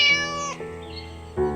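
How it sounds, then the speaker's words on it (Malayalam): A cartoon cat meows a few times, bright drawn-out calls with a short gap between them, close and clear with no talking over them. "ദേ ഒരു പൂച്ച വരുന്നു"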